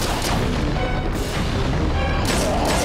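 Crossbow shots and impacts from the Link's Crossbow Training video game form a loud, dense, continuous barrage of booming hits with no clear gaps between them.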